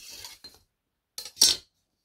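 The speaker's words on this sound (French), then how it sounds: "Désolée pour le bruit de la règle." Brief scraping and rasping strokes of a ruler, a few quiet rubs followed by a louder scratchy swipe, close and with no voices.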